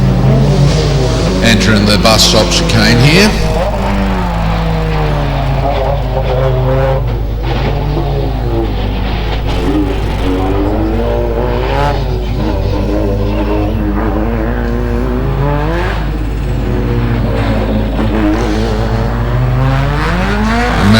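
A Nissan Silvia race car at a lakeside hillclimb blasts past close by, its engine revving hard and shifting through gears with rising and falling pitch, while a commentator talks over the loud, continuous engine noise.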